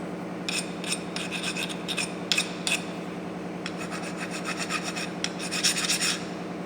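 A metal workpiece is deburred by hand with a file during a machining lesson, giving a series of close rasping strokes over a steady low machine hum, with no talk.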